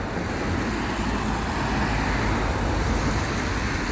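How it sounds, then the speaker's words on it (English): A constant, dense roar of road traffic on a rainy, windy seafront in Blackpool, steady and fairly loud throughout with no voices on top. "It's just a constant stream of traffic, constant."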